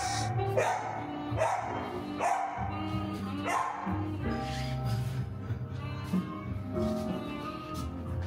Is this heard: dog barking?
yes